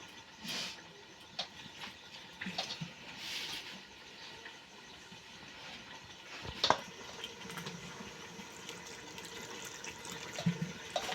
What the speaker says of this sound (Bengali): এখন অল্প অল্প জল দিয়ে আমি একটা পাতলা ব্যাটার বানিয়ে নেব।